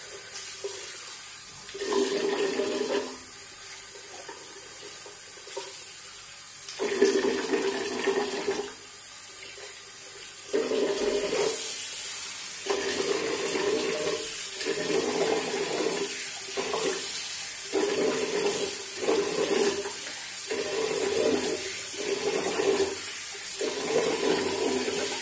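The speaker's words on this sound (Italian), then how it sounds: "mi risciacquo il volto" Running water from a tap splashes in a sink as a man rinses his face after shaving, the flow interrupted repeatedly as hands cup and splash water, close and moderately loud.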